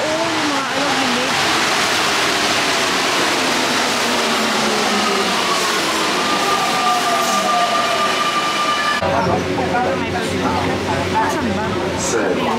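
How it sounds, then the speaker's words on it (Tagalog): A train rushes past close by, its rumble and squealing wheels rising and then shifting abruptly, with people talking over it throughout. "Ayan, may train. Ang bilis lang naman ang train."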